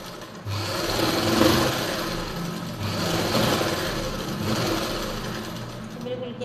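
Sewing machine running a line of stitching over the gathers on a baby frock, a continuous close whir that rises and falls slightly in speed for several seconds.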